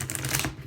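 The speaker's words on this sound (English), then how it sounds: "Just going to shuffle a little bit here." Tarot cards shuffled by hand for a card reading, giving a short burst of crisp, rapid papery ticks and rustles, close and fairly quiet, with no talking.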